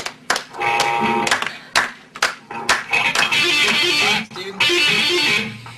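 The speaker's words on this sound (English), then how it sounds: "When are we putting the claps on this one?" Hand claps being recorded for a song in a studio: sharp, separated claps land at irregular intervals between stretches of loud, dense music.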